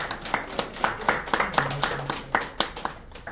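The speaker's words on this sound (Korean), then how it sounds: "박수." Short burst of clapping from a church congregation during a Sunday service in Korea, quick, uneven hand claps at moderate distance lasting a few seconds.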